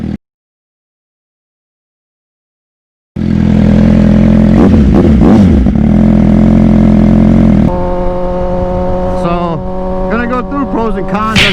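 Suzuki GSX-R 600cc sport bike engine idling and revving loud and close after about three seconds of silence, with a steady rumble, then sharp rising rev blips toward the end.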